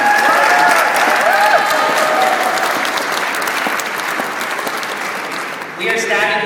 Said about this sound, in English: Let's give him a round of applause for that.